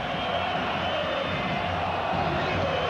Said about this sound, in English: Well, the chants of the crowd, listen, boring.